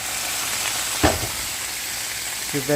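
Vegetables sizzle steadily in hot oil in a pan, a constant crackling hiss with a brief clunk of a utensil and faint voice fragments near the end.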